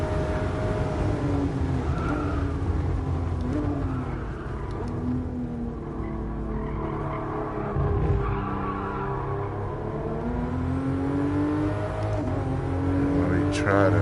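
A tuned race car laps the Fuji circuit in a racing video game, its engine droning and revving steadily throughout, with rising and falling pitch through gear changes, occasional tire scrub and a few clicks over it.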